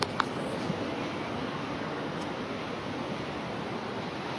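Gandaki river water rushes in a steady, unbroken roar that sounds close and even throughout, with a couple of faint clicks near the start.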